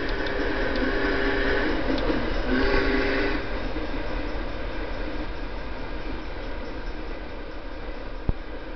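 In the Trainz video game, a Big Boy steam locomotive rolls past a crossing with a steady rumbling, rushing roar and brief tonal horn-like notes early on, continuous and fairly close, with no talking.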